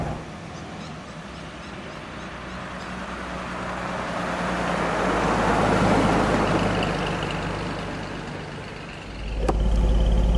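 A 1953 Chevrolet Corvette in Polo White, number 63 of 300, drives along with a steady engine and road rumble that swells in the middle, eases, then a louder low surge and a brief sharp knock near the end.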